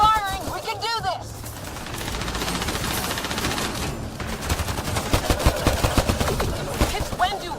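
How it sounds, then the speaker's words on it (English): Sustained rapid gunfire from the Mass Effect Andromeda video game, dense bursts of shots layered with game effects and voices speaking over the action throughout. "Just keep firing, we can do this!"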